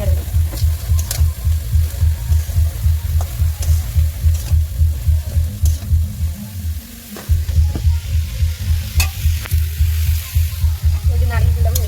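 Shredded cabbage with chilli and cumin powder sizzles steadily in a pan while being stirred, with a rhythmic scraping of the spoon over loud continuous frying and a short pause midway.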